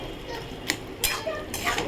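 Taro (kochu) is stirred in a pan as its water cooks off: a few sharp spatula scrapes and clinks against the metal, spaced apart, over a faint background with no talking.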